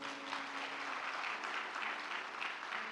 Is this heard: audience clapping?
yes